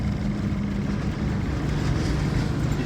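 A car engine drones steadily at a fixed RPM during a test drive, with one gear too high, causing a constant low rumble and vibration that makes everything rattle, continuous and unbroken with no talk.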